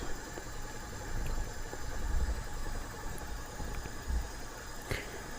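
A quiet, steady Suzuki Baleno engine idle below 1000 RPM with a low rumble and faint irregular knocks, heard alone without talk; the car has a burnt ECU.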